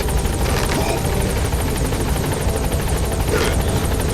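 A support helicopter in Metal Gear Solid V hovers at a landing zone, its loud rotor chopping steadily and close for the whole stretch, with no voices over it.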